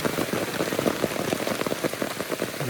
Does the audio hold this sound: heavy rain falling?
yes